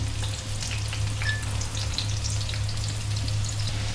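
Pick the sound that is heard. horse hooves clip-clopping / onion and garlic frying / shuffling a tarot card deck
onion and garlic frying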